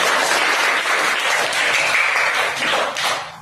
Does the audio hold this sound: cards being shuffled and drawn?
no